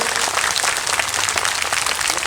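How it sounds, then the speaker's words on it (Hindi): A large audience at a Ram Katha religious gathering claps vigorously, producing a dense, continuous patter of many hands at fairly close range that stays steady throughout, with no speech over it. "फिर एक बार ताली जरा जोर से बजाइए।"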